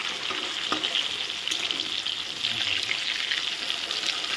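Rohu fish pieces fry in oil in a pan, one side already browned, producing a loud, dense, continuous sizzle heard up close without any talk.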